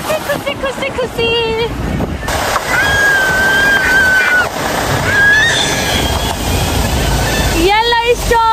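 The Yellow Stone waterfall in Jajarkot keeps up a loud, steady roar of rushing water from start to finish, while family members talk over it and let out high excited squeals.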